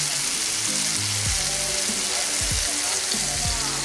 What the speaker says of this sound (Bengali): এখন আমি এর মধ্যে খুব কম পরিমাণে একটু জল দিয়ে দেব।